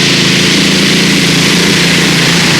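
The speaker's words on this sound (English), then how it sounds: "Hard down on the throttle, and Freddie drove himself into 3rd place" A pulling tractor's engine at full throttle in a 1996 European tractor pulling championship roars loud and steady, a dense unbroken mechanical drone with no pauses.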